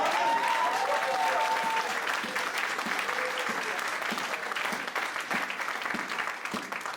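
A church congregation applauds to acclaim the Lord, steady dense clapping filling the room throughout, with a voice briefly rising above it near the start.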